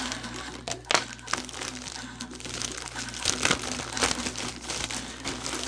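Toy packaging being opened, close crinkling and crunching of plastic and cardboard in irregular bursts, with a faint background voice.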